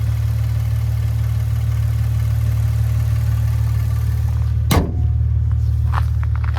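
A 2014 Maserati Ghibli S Q4 with a 3-liter twin-turbo V6 idles with a steady low rumble, close and even, broken by a single sharp thump near the end.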